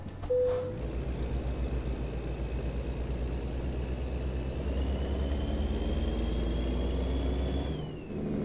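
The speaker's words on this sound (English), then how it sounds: "What a good sound this truck's got." A truck engine in the driving game American Truck Simulator, a loud, steady low rumble running throughout, with a brief beep at the start and a whining tone that rises slowly, then a quick drop at the end.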